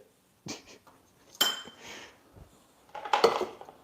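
Dishes and cutlery clatter as they are handled in a kitchen while cooking a pureed green bean casserole, with several short clinking bursts and scraping rattles close by, and no talking.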